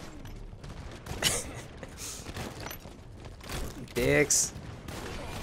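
Gunfire in Halo 5 with unlimited ammo, sustained bursts of shooting with louder volleys near the start and end, while a voice speaks briefly over them.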